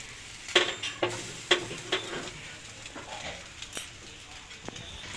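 Fish pieces roasting on a grill mesh give a faint sizzle under a series of sharp clicks and scrapes as they are turned, louder at first and then sparser, close by, with quiet talk.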